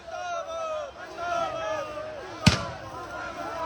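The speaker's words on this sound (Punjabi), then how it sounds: "ਦੇਖੋ ਕਿਸ ਤਰ੍ਹਾਂ ਹਵਾਈ ਬੰਬ ਜਿਹੜੇ ਉਹ ਛੱਡੇ ਜਾ ਰਹੇ ਆ" Police firing tear gas shells at a farmers' protest, heard as a single sharp bang mid-way through, under excited crowd chatter and shouting outdoors.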